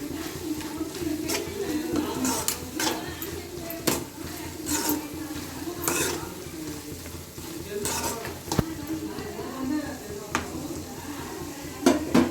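Ridge gourd curry stirred with chilli powder in a pan, a spoon scraping and clinking against the metal in irregular strokes over a soft sizzle, close and moderately quiet.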